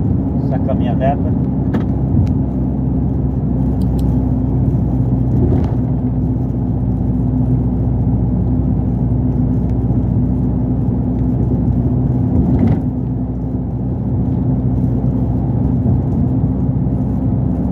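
Pickup truck passing at night in Itaporanga, a steady low engine whir and road hum close by, with brief rising swells as it moves past and a person talking over it.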